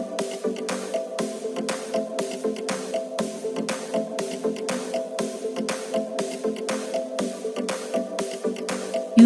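Soaked fenugreek seed water poured through a strainer, a steady splashing trickle with pulsing rhythm, close and moderately loud, no talking.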